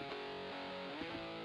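Distorted rock guitar from an alternative rock track, played with no FET-style compressor, sustained harmonic chords steady and fairly loud throughout, with no talking.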